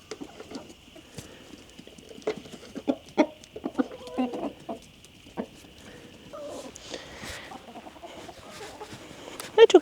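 Backyard chickens cluck in short, scattered bursts on a winter morning homestead, fairly faint and distant over a steady high insect-like hum, with a few louder calls near the end.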